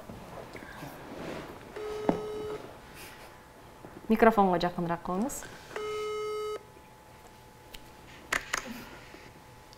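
A phone call on speakerphone in a TV show studio: two steady electronic ring or busy tones sound a few seconds apart, with a host speaking between them and faint soft noises around.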